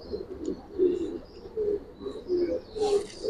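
Giribaz pigeons of the old Bagha and Jabra breeds coo repeatedly at a crowded pigeon fair, a steady run of low rolling calls with brief chirps above and a busy background murmur.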